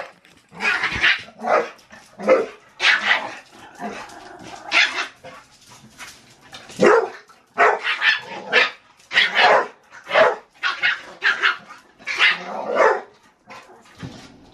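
A dog barks repeatedly in short, loud bursts at close range, with some yips and whimpers mixed in and no one speaking.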